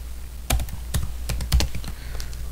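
Quick, crisp keystrokes on a computer keyboard click in an irregular typing rhythm, close and clear with no talking.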